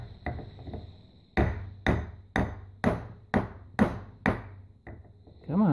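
Hammer tapping on the head of a York air-conditioning compressor to break it loose, a series of about eight sharp, evenly spaced metallic blows, close and loud, with short pauses and faint handling noise between strikes.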